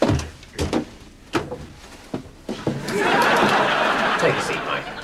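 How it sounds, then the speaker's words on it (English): An office door being shut makes a few quick thumps and clicks, and a burst of laughter and noisy movement follows. "Shut the door, will you?"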